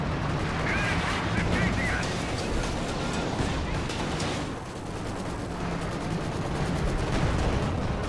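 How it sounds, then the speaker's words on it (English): Artillery barrage in a World War II strategy game, heavy booms and dense gunfire rolling almost without pause, with a voice talking over it throughout. "Use of the zeroing artillery."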